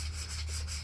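Wood carving being sanded by hand, a short, steady rubbing rasp that holds at an even level throughout, close and alone.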